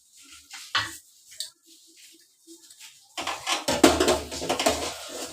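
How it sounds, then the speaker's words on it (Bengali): A pot of water set onto a gas stove burner, heard as scattered faint knocks and a metallic clatter, then a louder, denser stretch of rattling and scraping near the end, with no talk. "আর অন্য একটা ওভেনে আমি একটু গরম জল বসিয়ে দিচ্ছি।"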